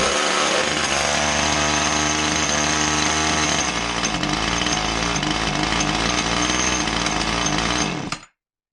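A Husqvarna 450 chainsaw running backwards idles and revs with a loud, buzzing, rattly engine drone close by, the pitch shifting partway through before the engine cuts out abruptly near the end.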